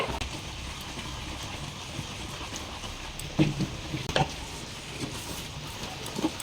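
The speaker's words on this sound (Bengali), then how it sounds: "এই স্টেপে কিন্তু একটু নাড়তে হবে" Thickened milk for kheer sandesh is stirred in a pan, giving a soft continuous bubbling hiss with occasional spoon scrapes and taps against the metal.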